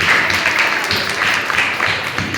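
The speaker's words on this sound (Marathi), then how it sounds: "जोरदार टाळ्या वाजवा." An audience claps during a lamp-lighting ceremony at a devotional event in Pune, a dense, steady wash of applause that is loud and continuous throughout.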